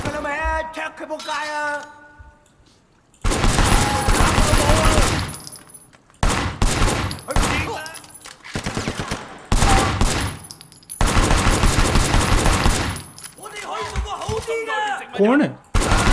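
Bursts of gunfire from the video game Sleeping Dogs come in several loud, dense volleys separated by brief pauses, with someone talking over the quieter stretches between them.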